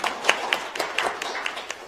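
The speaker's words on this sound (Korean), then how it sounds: "큰 박수로 환영해 주시면 고맙겠습니다" An audience claps in welcome for a guest at a panel event on a court trial, a short burst of scattered, fairly quiet hand claps with uneven rhythm.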